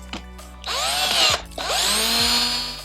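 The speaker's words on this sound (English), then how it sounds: "Now I'm just going to take my quart mixer mate and put it inside." A power drill spins a quart mixer blade through precatalyzed lacquer sealer in two bursts, each revving up loud, whining steadily, then winding down, with a short pause between them.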